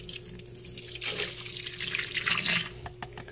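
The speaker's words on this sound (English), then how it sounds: "I got my little bucket of water again, and this is hot water. And what I'm doing is I'm just going to go ahead and pour it back in here again" Hot water poured from a small bucket into play sand for a hermit crab enclosure, a steady liquid splash and trickle that swells in the middle and fades near the end, close and alone.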